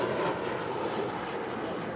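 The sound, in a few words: JetBlue Airbus A320 departing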